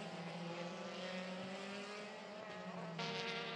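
Euroformula open-wheel race cars scream past at the Portimao circuit, with a sustained high-revving engine whine and shifting pitch, a second car's note swelling louder near the end.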